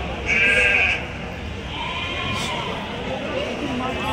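Nellore Jodipi sheep at a sheep market, one loud nearby bleat early on, then a busy crowd murmur with voices talking in the background.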